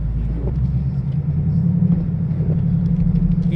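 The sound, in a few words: 2018 Ford Mustang GT engine driving uphill in snow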